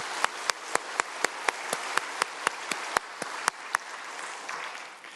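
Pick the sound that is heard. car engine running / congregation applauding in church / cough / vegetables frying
congregation applauding in church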